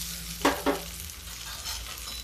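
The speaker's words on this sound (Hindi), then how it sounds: "अब इसको हम हल्का सा फ्राई कर लेते हैं।" Whole mung beans frying lightly in a little oil give a steady soft sizzle, broken by two brief louder stirring bursts near the start.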